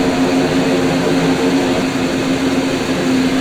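A Cessna 441 turboprop engine starts up in a Flysimware flight simulator, giving a steady droning hum with a sustained whine, even and moderately loud throughout.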